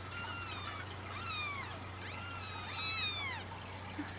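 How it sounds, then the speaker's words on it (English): A mother cat with four-week-old kittens meows indoors, making several drawn-out, rising and falling calls at moderate distance over a faint steady hum, with no talking. "Hi, Mama Cat"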